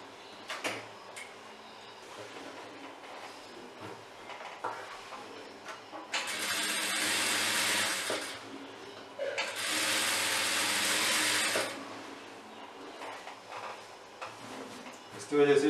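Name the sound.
sewing machine stitching a kurti seam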